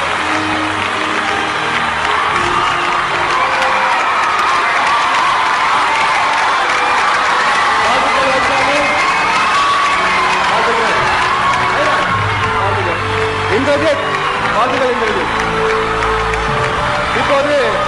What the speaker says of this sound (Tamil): உங்கள் கரகோஷம்.